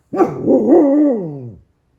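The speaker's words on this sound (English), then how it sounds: "Apparently my dog's upset about that." A dog gives one drawn-out, whining bark-howl, close and fairly loud, lasting about a second and a half before stopping.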